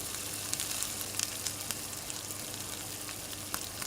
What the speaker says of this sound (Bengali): দিয়ে দিলাম আন্দাজ মতন হলুদ, দিয়ে মশলাটাকে ভালো করে কষিয়ে নিতে হবে।